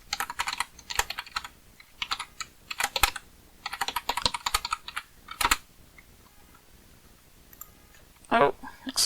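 A password typed on a computer keyboard in short bursts of quick, close key clicks separated by pauses, with a louder flurry near the end.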